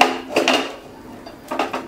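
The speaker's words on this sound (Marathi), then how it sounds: "आणि मग याच्यावर हे ठेवणार आहे कढई" A kadhai wok set onto a second gas stand over the burner while making sesame chikki, giving a couple of close metallic clunks and scrapes separated by a short quiet gap.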